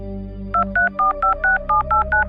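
A rapid series of about eight touch-tone telephone beeps, evenly spaced, dialing a number over a low background hum.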